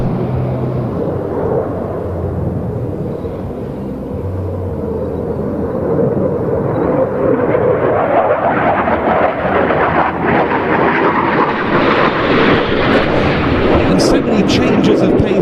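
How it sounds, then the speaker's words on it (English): A French omni-role fighter jet roars through a fast-jet flying display at an air show, with loud sustained engine thunder that swells and rumbles over crowd noise. "It's one of the most exciting fast jet displays on the circuit today"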